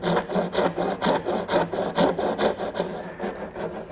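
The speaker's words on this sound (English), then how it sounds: "I'm going to use a dovetailing saw to make a shoulder cut at the top and bottom of each tenon" Dovetail saw cutting the tenon shoulders on wooden slats, a steady run of about fifteen rhythmic rasping strokes, close and moderately loud.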